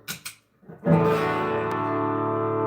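Faint taps and fumbling come first, then an electric guitar chord is struck through a Fender '65 Deluxe amp with a compressor pedal on, ringing with an even, held sustain that barely fades.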